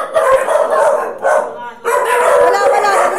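Several dogs barking and yipping in excited, overlapping bursts close by, with a brief lull mid-clip before the barking resumes loudly, with some human voice mixed in.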